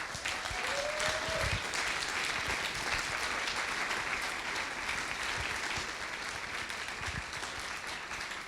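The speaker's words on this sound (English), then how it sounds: "if you can all applaud them, because they're truly amazing" A conference audience applauds the BGE working group, sustained even clapping from a large room that carries on steadily for the full stretch, with a faint voice briefly at the start.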